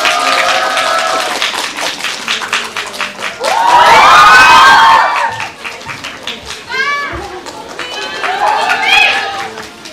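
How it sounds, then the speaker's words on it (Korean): Audience applause and cheering welcoming an actress onto the stage at a Korean film festival event, swelling loudly in the middle and mixed with crowd noise, with an announcer speaking over it before and after. "큰 박수 부탁드립니다"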